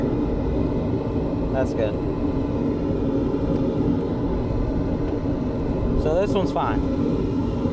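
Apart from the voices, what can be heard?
commercial HVAC furnace blower running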